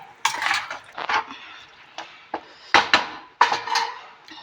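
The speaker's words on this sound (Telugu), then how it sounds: "ఇట్లా మూత పెట్టి." A metal lid is set onto a pot of mutton curry on a medium flame, with a series of sharp clanks and scraping clinks, close and clear against a quiet kitchen background.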